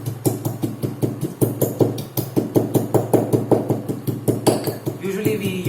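Whole spices for an ayurvedic kadha are pounded in a steady, rapid rhythm, each hard strike ringing close and loud, with about twenty blows in a row.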